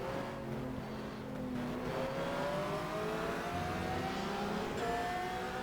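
A race car in a racing sim video game exiting the pit lane, a steady engine whine rising slowly in pitch as it accelerates, continuous and moderately loud over a constant rumble.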